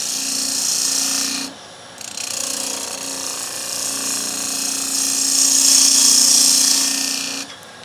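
A gouge cuts a wooden vase spinning on a woodturning lathe, giving a continuous rasping, scraping hiss with a steady motor hum beneath, easing off briefly twice as the tool lifts away from the wood.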